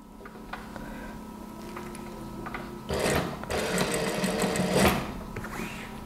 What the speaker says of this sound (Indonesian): Kita mulai jahitnya dari bawah.